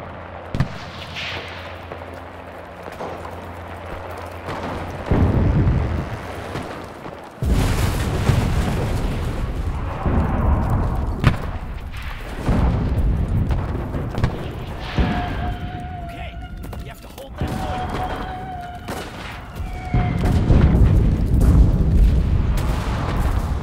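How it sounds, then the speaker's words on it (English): Artillery barrages and explosions from the WWII shooter Enlisted, set in the Tunisia desert battle, booming heavily and repeatedly across the whole stretch, with deep rumbling blasts layered under voices and radio chatter. "artillery! Fire at the square!"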